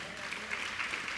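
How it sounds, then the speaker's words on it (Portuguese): A church congregation applauds briefly, a short steady patter of clapping with voices mixed in. "Você pode aplaudir o Senhor bem forte?"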